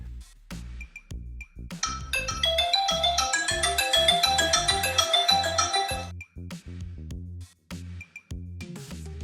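Bluetooth call ringtone chiming from a Fossibot Viran W101 rugged smartwatch, a bright repeating melodic ring lasting about four seconds, with quieter musical sounds before and after.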